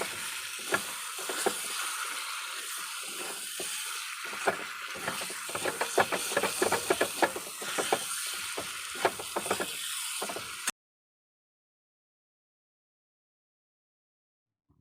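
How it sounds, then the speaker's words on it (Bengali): A spice mixture with salt and cut potatoes is sautéed in a pan, a low sizzle under quick, rhythmic scraping and clicking strokes of a utensil, close by, stopping abruptly into near silence after about ten seconds. "দিয়ে দেবো পরিমাণ মতো লবণ এবার ভালোভাবে কষিয়ে নেব"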